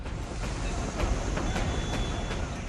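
A train at Ara railway station during unrest, rumbling with rhythmic wheel clatter over the rails and a faint high squeal, steady and fairly close.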